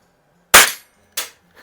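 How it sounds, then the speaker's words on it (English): A BSA Meteor air rifle fires two sharp, loud cracks about half a second apart, each with a brief ringing decay, followed by a faint click. "it's shooting with some pretty good power"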